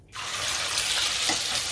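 Shrimp frying in a hot, oiled wok, a steady broadband sizzle that starts abruptly and holds loud and close throughout, with no talk over it.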